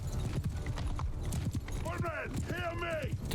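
Horse archers' horses galloping in the battle game Mount & Blade II: Bannerlord, a dense rapid clatter of hooves with a couple of whinnies rising over it and someone talking throughout.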